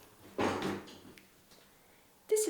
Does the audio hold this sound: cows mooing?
no